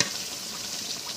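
Meat and spices frying in a pan as they are stirred, a brief close burst of steady hiss and sizzle.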